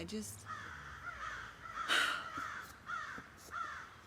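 Several crow caws ring out at intervals from a distance, harsh and repeated, over faint outdoor background noise.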